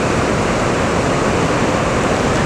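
The Potomac River rushes at Great Falls as a loud, dense, unbroken roar of white water, steady throughout with no voices.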